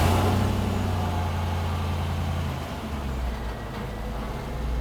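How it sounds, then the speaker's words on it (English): A Volvo XC90 started and put in drive with its wheels spinning while raised on a lift, a close engine and drivetrain hum that steps down in pitch midway, with no voices. "We're gonna have Danny turn it on, put it in drive, and hopefully all four wheels should spin."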